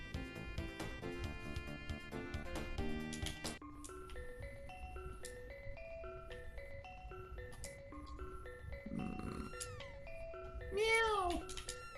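Cat meows from the Chrono Trigger video game sound near the end, a couple of short rising cries over the game's bright melodic background music.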